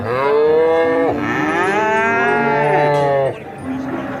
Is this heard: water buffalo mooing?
yes